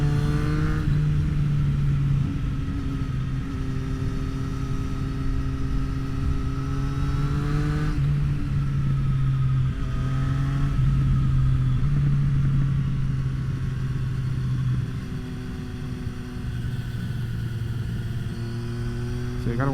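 A 2024 Triumph Street Triple RS being ridden on a road, its engine droning steadily with a couple of rises and falls in pitch as it shifts, heard up close over continuous wind rush.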